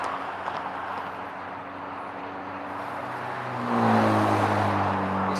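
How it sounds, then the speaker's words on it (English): Cars pass by loudly on a road outdoors, a sustained engine roar with rising and falling tones as one vehicle grows louder and nearer midway, heard alone without talk. "These cars are very, very loud."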